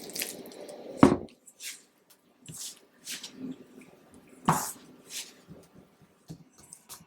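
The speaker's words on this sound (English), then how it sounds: "now use water to knead it into a semi-soft dough" Kachori dough of all-purpose flour, hot oil and water is kneaded by hand into a semi-soft mass, giving soft, wet squishing and pressing sounds in an irregular rhythm, close and fairly quiet, with two sharper slaps.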